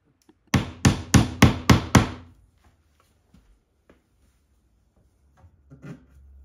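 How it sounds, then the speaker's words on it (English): Six sharp hammer blows on wooden dowels in a steady rhythm, close and loud, followed by a few faint knocks and a short rustle near the end. "so I can hit it with a hammer"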